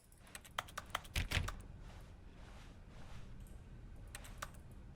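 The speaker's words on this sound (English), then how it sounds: "Why am I typing in midair?" Keyboard typing from the video game The Stanley Parable: a short burst of quick clicking keystrokes early on, then a few scattered taps later over a low, steady background hum.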